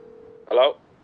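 A single short payphone keypad tone sounds in a video game, faint and brief after a low steady hum.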